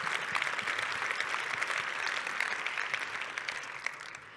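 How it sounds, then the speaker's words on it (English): A crowd applauds at a presentation on global trade and supply chains, a dense, steady wash of many hands clapping that fills the whole stretch and eases off slightly toward the end. "Round of applause for all of them."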